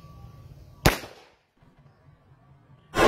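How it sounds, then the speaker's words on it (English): A .38 Special Taurus 605 revolver is fired at a concealed Level IIIA ballistic vest during field testing: one loud, sharp report rings out over a quiet background, and another sharp blast cuts in at the very end. "una nating i-test out is 38 special gamit itong Taurus 605. Okay, one shot, 38 special."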